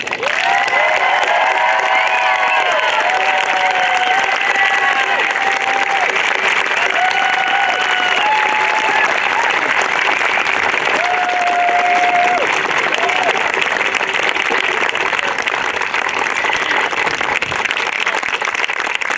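A large audience at an 8th grade promotion ceremony applauds and cheers the graduating students, with loud, continuous clapping and some whistles and shouts carrying on without pause.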